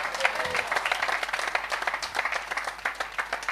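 Audience applause with scattered cheers at a religious gathering, steady dense clapping filling the whole stretch at moderate loudness.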